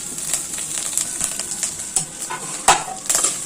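Dried chillies, grated coconut and curry leaves stir-fried in a pan, a steady light sizzle under repeated scraping and clinking strokes of a spoon against the pan, one sharper scrape standing out near the end.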